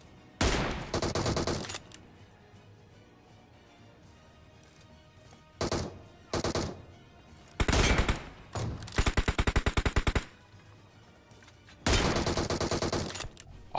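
AWM sniper rifle fire in the BGMI mobile battle royale game, a series of loud sharp gunfire bursts spaced irregularly across the clip, some in quick rattling runs, with no speech over them.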